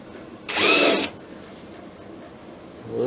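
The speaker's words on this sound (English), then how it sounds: "we'll go ahead and just use the countersink here" A power drill bores a countersink for a rivet in the nose cap of a Kibler Colonial flintlock kit, one short, close, high whine of about half a second amid quiet shop sounds.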